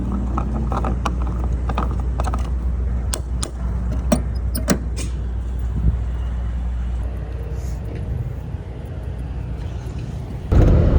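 A Honda Beat kei car on a long desert drive, heard from inside the cabin as a constant low engine and road drone with a few clicks and mechanical taps, and a louder burst at the very end.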